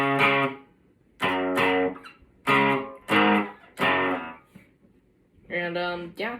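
A song riff is played as distorted electric guitar power chords in choppy, repeated bursts separated by short gaps, close up with no voices over it.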